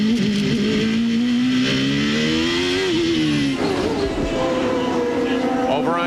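1993 CART race cars at the Long Beach street circuit rise in engine pitch as they accelerate through the gears, with repeated upward sweeps and shift breaks under a race commentator's voice.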